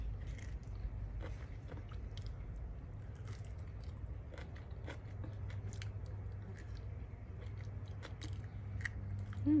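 Soft, close biting and chewing of a ripe black mission fig with tender skin, quiet crunchy mouth sounds repeating irregularly over a low steady background hum.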